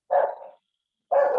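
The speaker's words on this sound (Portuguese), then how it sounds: "tem alguém com o cachorro solto aí" A loose dog in a neighborhood barks twice, with two short, loud, close barks separated by about half a second of silence and no other sound.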